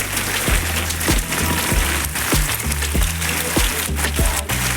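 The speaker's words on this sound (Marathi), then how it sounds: "खूप पाऊस आहे डोंबोरला." Heavy rain pours down in Dombivli on the Ashadhi Ekadashi holiday, a dense, loud, unbroken wash of noise with regular low thuds underneath.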